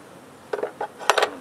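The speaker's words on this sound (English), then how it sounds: "the hive tool slipped and hit a bar" A metal beekeeping hive tool slipping and knocking against a wooden hive frame bar, giving a few sharp, close clicks and taps in quick succession against a quiet background.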